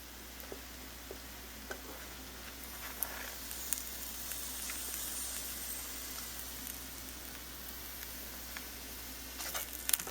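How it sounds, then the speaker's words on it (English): Chicken pieces fry gently in a pan, making a low, steady sizzle with scattered small pops and crackles throughout. "Only frying this up slightly."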